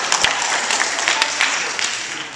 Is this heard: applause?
yes